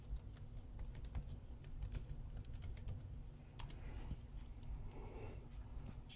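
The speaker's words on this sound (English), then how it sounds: "Type my password in." A password is typed on a Lenovo Y50 laptop keyboard, light rapid key clicks tapping close by over a low hum, with a brief pause midway.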